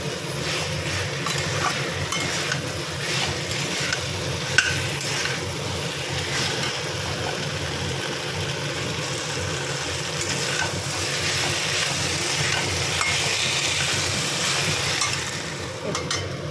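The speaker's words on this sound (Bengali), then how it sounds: "ফুলকপি আর আলু ভালো করে মশলার সঙ্গে কষিয়ে নিচ্ছি" Cauliflower and potato pieces fry with spices in a pan for a fish curry, giving a steady, close sizzle with continuous scraping and stirring throughout.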